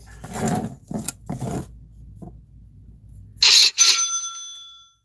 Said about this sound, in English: Sometimes a bell goes off.